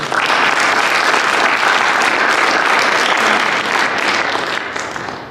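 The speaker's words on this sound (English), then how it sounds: "Applause, ladies and gentlemen." An audience at a university business plan competition finals claps loudly and continuously for about five seconds, a dense, close wash of applause that thins slightly toward the end.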